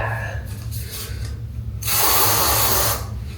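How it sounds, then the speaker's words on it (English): A Degree 72 Body Heat Activated Water, Lavender and Water Lily dry spray can gives one steady hiss of about a second, close and fairly loud, after a few quieter clicks and rustles. "this is the Degree 72 Body Heat Activated Water, Lavender and Water Lily Dry Spray"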